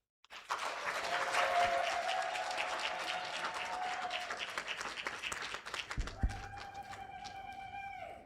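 Sustained applause from a large audience at a graduation ceremony, a dense wash of clapping rising quickly, holding steady, then thinning and ending with a few final claps and a tone.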